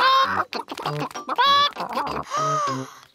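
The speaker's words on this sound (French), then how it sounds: "Tenez les poules, c'est pour vous." Cartoon chickens cluck in quick, bright bursts, a busy cluster of short calls that is close and loud.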